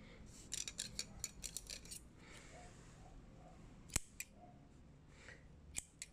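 Sterilized scissors snip through the dry layer of roots on a Phalaenopsis orchid, heard as quiet, close clusters of sharp clicking cuts, followed by a couple of isolated snaps, with no talking.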